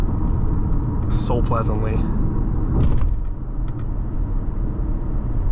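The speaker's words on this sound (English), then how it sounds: "I'm just gonna do some quiet driving so you can get to relax and experience this car" Steady low road rumble and engine hum inside a 2008 Acura RL 3.5 sedan during quiet driving, heard continuously and close, with someone talking briefly over it.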